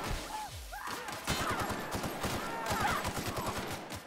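Video game gunfire in a rapid volley of sharp, closely spaced shots with a few whooshing effects before it, moderately loud, with some voice mixed in.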